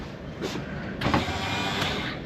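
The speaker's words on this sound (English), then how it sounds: "Should be able to hear this pump." Boat bilge pump switched on for a winterization test: a close, steady electric motor whir with a dense buzzing tone, rising slightly as it kicks on and running evenly, with no talk.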